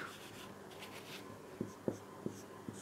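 Chalk or marker writes out a chemistry compound on a classroom board, producing soft scratchy strokes that end in a few sharp taps, close by and quiet, with no talking.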